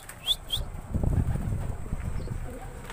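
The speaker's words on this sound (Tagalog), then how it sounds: "Yun mga kalapatids, dumating na rin si Paningit, yung kinahagis natin sa San Miguel" A racing pigeon arrives at its loft in the Philippines after release from San Miguel, Bulacan, with a few quick wingbeats and faint chirps close by, followed by soft rustling.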